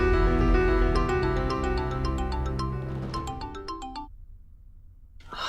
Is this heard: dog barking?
no